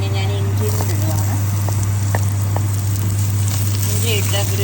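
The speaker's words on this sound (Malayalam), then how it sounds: "ഇനി ഞാൻ ഇഞ്ചി ഇടുവാണ്." Ginger sizzles and crackles in hot oil with garlic in a pan for Kerala fish curry, a steady close frying hiss over a constant low hum, with brief clicks of stirring.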